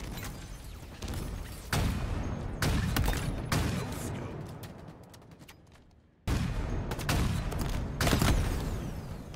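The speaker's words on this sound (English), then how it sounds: "Here he is again with his rockets. Avenging me with a rocket to the face." Rocket launcher shots and explosions in a multiplayer video game, a series of loud booming blasts with crackling gunfire between them and a brief drop to near silence before the blasts resume.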